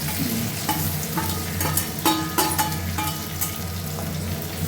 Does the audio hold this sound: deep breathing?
no